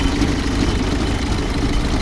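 A 1952 Willys M38 military jeep with its L134 Go Devil flathead engine idles steadily nearby, a continuous low, even rumble with slight vibration and no voices.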